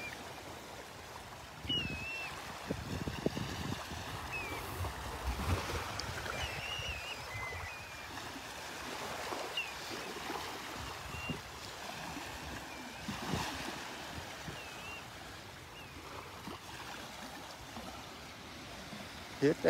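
Ocean surf rolls onto the beach at Delnor-Wiggins on a Saturday morning, a steady wash of waves with swells rising and fading, a few faint bird calls, and a person speaking intermittently over it.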